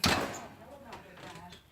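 An oven door thuds shut once in a home kitchen, a short firm knock that quickly fades into quiet room tone.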